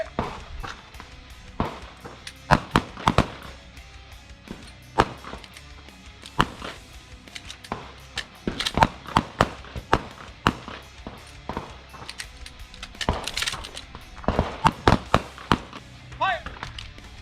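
Sharp pistol shots at an outdoor shooting range during a defensive pistol class, many single cracks in irregular bursts, some near and some farther off, with instructors' voices between them.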